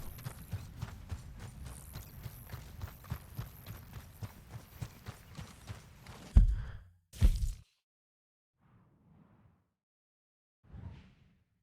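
Horse hooves clip-clop at a steady walking rhythm in Red Dead Redemption 2, close and moderately loud for about six seconds, followed by a couple of heavier thuds and then faint scattered sounds.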